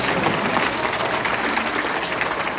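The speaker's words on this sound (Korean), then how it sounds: "생명이 없는 듯 마이크에도 생명을 불어넣으신 우리 김국성 선생님께도 감사의 박수를 보내주십시오" An audience at a weekly political education meeting gives a thank-you round of applause for a teacher, steady, full-room clapping that holds evenly throughout with no talking over it.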